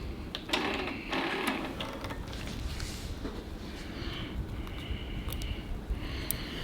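A long arm sewing machine stitching a June Tailor pocket shopper tote runs in a steady, continuous mechanical whir from start to finish, close and fairly loud, with a few faint clicks and no talking.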